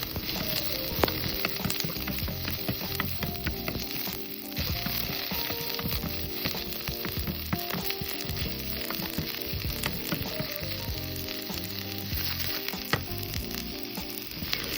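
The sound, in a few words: chopped onions frying in oil in a kadai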